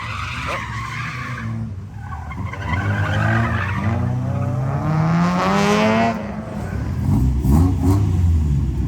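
Turbo diesel trucks race at a Thai gymkhana event, engines revving and tires skidding and squealing loudly and continuously nearby, rising and falling in pitch as they slide through turns.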